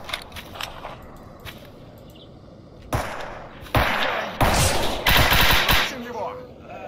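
Gunfire in the video game Stalker Anomaly, a few scattered shots early on, then loud, dense automatic bursts from about three seconds onward, close and harsh, with no talking in this stretch.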